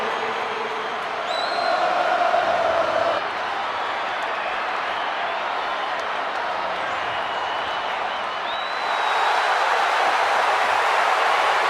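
Wrestling crowd at Monday Night Raw cheering for L.A. Knight, a broad steady arena roar that swells louder in two waves, with a commentator talking over it.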